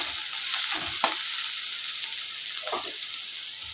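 Cumin seeds and coriander sizzle steadily in hot oil for a red lentil tarka, a dense crackling hiss broken by a few soft spoon scrapes, close and with no talking.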